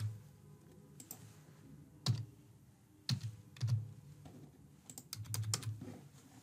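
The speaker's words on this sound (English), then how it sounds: "I'll enter the test card details." Test credit card details are typed on a computer keyboard during an online checkout, giving quiet clusters of quick key clicks separated by short pauses, with no talking.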